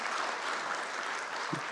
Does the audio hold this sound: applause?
yes